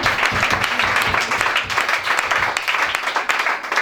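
A church congregation at a worship service applauds and cheers God, steady dense clapping with voices mixed in throughout, loud and continuous.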